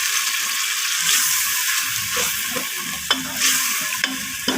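Tomato paste and three or four chopped green chillies being stirred into frying dal chana in a pan, a continuous loud sizzle with scraping spoon strokes and a few sharp clinks, no voices.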